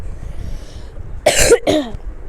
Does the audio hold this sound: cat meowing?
no